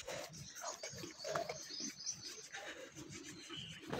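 Soft low cooing from pigeons being fed crumbled bread repeats through the clip, with faint chirps and a light rubbing rustle close by.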